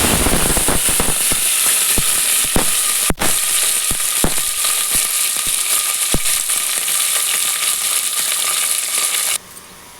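Onions, garlic and curry leaves with cumin frying in hot oil in a pan, a loud continuous sizzle broken by sharp crackles and pops, ending abruptly near the close.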